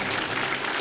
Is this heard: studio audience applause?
yes